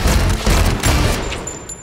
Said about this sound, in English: Oh, will you stop shooting everything?